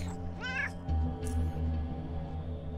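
A cat meows once with a clear rising and falling cry, close to the mic, while a low steady background hum runs under it.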